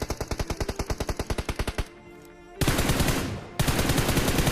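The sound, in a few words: gunfire from a video game shooter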